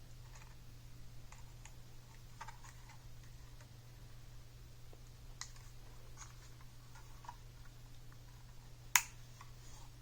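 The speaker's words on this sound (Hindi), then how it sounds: "अब हम इस लॉक को प्रेस करके, ये क्लिक साउंड से हमें मालूम पड़ जाता है कि अच्छी तरीके से फिक्स हो गया अपने प्लेस पे।" Small plastic clicks of a lock being pressed into place on a DJI Mavic Mini drone, faint and close, scattered among light handling ticks over a steady low hum, with one sharper snap near the end.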